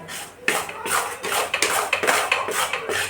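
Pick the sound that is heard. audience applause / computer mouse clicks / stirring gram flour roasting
stirring gram flour roasting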